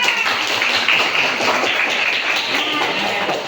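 A classroom full of students clapping hands together, a dense, steady patter of many claps filling the room for several seconds without letup.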